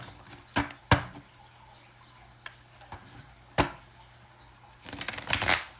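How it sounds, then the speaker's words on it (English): Close, crisp riffles of a tarot deck being shuffled, with a few short snaps early on. Near the end comes a longer flurry of shuffling, with quiet pauses in between. "This is the first shuffle."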